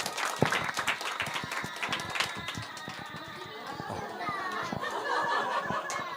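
Korean church congregation clapping in celebration during a Sunday service, irregular sharp claps mixed with excited children's voices and chatter, lively and close, the clapping thinning slightly partway before picking up again.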